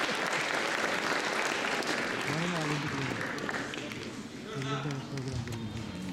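Audience applause at a vote of thanks during a volunteer event, a steady wash of clapping from a crowd with voices and tones mixed in, fading slightly before picking back up.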